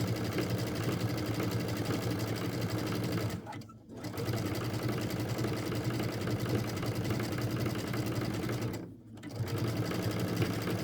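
A sewing machine stitches fabric into a rolled bowl edge, running steadily and loudly close by, with two brief pauses in the whirring rhythm.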